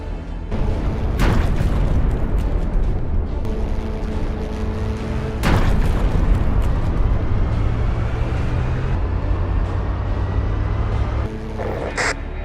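Booming explosions from an air strike during a military assault exercise, heavy blasts standing out over a continuous dense rumble with engine-like drones, loud and sustained throughout.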